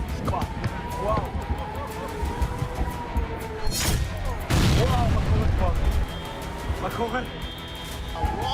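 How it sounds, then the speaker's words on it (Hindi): Loud explosive blasts and booms ring out over a chaotic, noisy scene in Gaza during the Israel–Hamas conflict, with a big burst near the middle and people's voices mixed in. "शहरों में होते ये धमाके, ये आगजनी"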